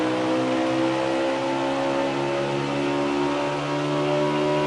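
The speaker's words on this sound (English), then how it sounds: "Listen in as he's off the gas, gets back into it during the center of the corner, trying to get that good run." A NASCAR Heat 4 stock car engine at ISM Raceway hums loud and close, easing off the throttle and then pulling back on through a corner in a steady rising drone, with no voices.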